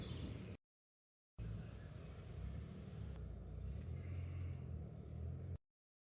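A 1989 MG Metro 1300 Mark II car pulls away, its engine giving a steady low rumble that holds for several seconds after a brief burst and a short pause, then cuts off.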